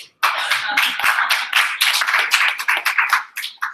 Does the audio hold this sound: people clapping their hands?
yes